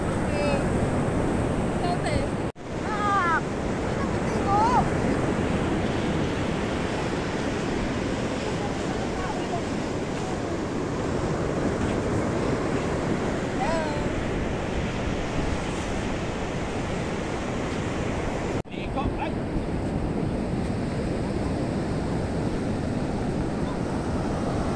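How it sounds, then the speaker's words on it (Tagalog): Loud, continuous rush of strong sea surf and wind buffeting the microphone on the coast at Dingalan, Aurora, Philippines, steady throughout with a couple of brief dropouts; faint voices now and then underneath. "Pero malakas pa yung alon."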